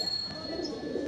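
Kalsira Andhra pigeons in a loft coo in soft, low murmurs that run steadily, close by, with no voices.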